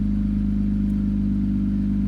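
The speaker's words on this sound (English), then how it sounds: "Let me get a couple revs in for you guys" An Infiniti Q50 fitted with a Rev9 Y-pipe and mid-pipe and a Helmholtz axle-back exhaust idles and revs with a deep, steady, throbbing drone, loud and close, with no talking.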